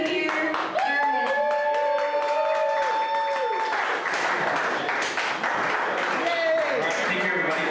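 An audience at a security conference meetup claps and applauds continuously for a presenter, a dense sustained patter of many hands with a voice carrying over it.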